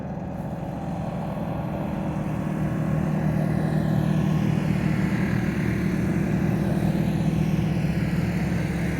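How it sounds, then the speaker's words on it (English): A line of off-road vehicles drives past outdoors, their engines making a continuous, fairly loud rumble that swells slightly as they pass. "Here comes a whole parade of off-road vehicles now."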